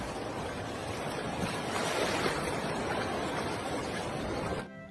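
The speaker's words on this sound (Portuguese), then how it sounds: "Ondas calmas tremem com gelo aquático que não são totalmente formados na superfície da água" Calm waves on a freezing lake wash gently among floating rounded ice balls and shards, making a steady, close, soft splashing hiss that continues without pause and then stops abruptly just before the end.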